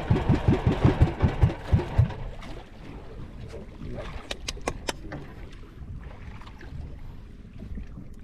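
A boat engine putters in rapid rhythmic thumps for a couple of seconds, then settles into a low idle with scattered knocks and faint voices.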